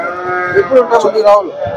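A cow lets out a short, loud moo close by at a cattle market, with rising and falling tones over under two seconds.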